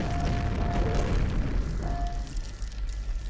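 A grenade blast from the shooter game Quake, a dense low rumbling boom that sustains and fades over a few seconds, fairly loud and heard without talk.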